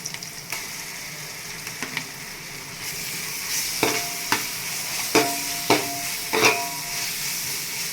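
Ginger garlic paste sizzles in a pan for chicken ghee roast, a steady hiss punctuated by several distinct clacks and scrapes of a spatula against the pan, close and clear, with no speech.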